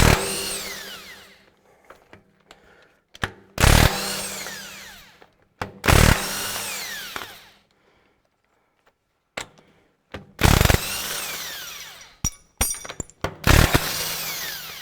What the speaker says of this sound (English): I've got my Makita nut gun and my 3/4 socket, so